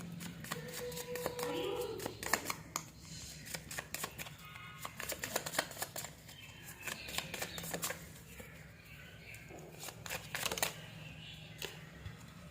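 Tarot cards being shuffled by hand in repeated riffling bursts, crisp papery flutters and taps at moderate closeness, with a steady low hum underneath and no talking.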